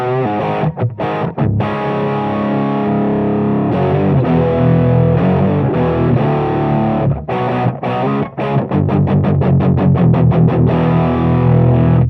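Distorted electric guitar through a Marshall JCM800 2203 amplifier with its tone controls turned all the way down, played in loud chords and bursts of fast palm-muted chugs with short pauses.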